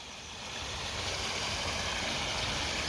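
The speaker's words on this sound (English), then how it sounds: "We've got a little weir there" Water pours over a little weir on a stream in a town on the Derbyshire border, a soft, steady rushing wash heard faintly at a distance without pause.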